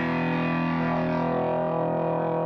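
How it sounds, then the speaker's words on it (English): Electric guitar played through a distortion pedal that overloads the signal, giving a dense, sustained, gritty chordal tone that rings steadily and loudly for the whole stretch with no voices over it. "Distortion pedal, which overloads the signal."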